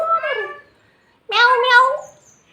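A domestic cat meows twice close by, first a short call and then a longer, louder drawn-out meow after a brief pause, in a quiet room.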